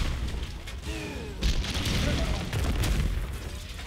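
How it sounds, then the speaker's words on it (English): Sgt. Hammer's napalm strike in Heroes of the Storm: a booming impact and burst of fiery rumble amid battle noise and mechanical clatter, loud and sustained after a brief whine. "throw some napalm at him"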